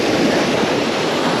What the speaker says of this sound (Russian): сейчас мы находимся на пляже